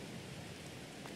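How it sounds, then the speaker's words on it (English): Steady rain falls in the Farming Simulator 22 video game, a dense even hiss with no voices. "It's getting too much of a rain here"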